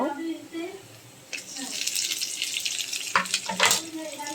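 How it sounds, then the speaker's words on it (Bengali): Onion and garlic frying with spices in a pan while cooking a fish dish with flat beans: a steady broad sizzle, close and moderately loud, starting about a third of the way in with a few clatters near the end, after a brief quiet stretch. "পেঁয়াজটা বাদামি কালার হয়ে এসেছে এখন আমি বাকি মশলাগুলি দিয়ে দিব"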